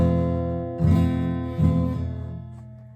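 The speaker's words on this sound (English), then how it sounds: "And then you have your F." Guitar strummed as an F barre chord, two full strums about 0.8 seconds apart, each ringing out clearly and decaying slowly, close and alone with no voices.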